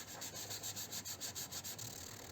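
Rhythmic back-and-forth sanding of dried epoxy on a rusty car door, about a dozen even strokes in quick succession, close and steady with no talk.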